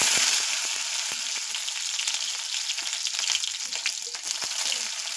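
Garlic hitting hot mustard oil in a pan for a greens-and-eggplant dish, a bright crackling sizzle with sharp pops and spatters scattered throughout, steady and close.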